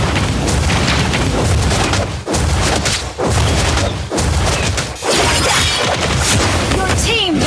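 Loud booming crashes and shattering bursts as a turret is destroyed in the Mobile Legends mobile game, repeating in heavy waves with game voices over the top.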